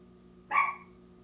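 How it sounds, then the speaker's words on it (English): A single short dog bark, moderately loud, rising out of a quiet background hum and fading quickly. "Oh, please pardon my little dog Piper has decided to join in with the dog next door"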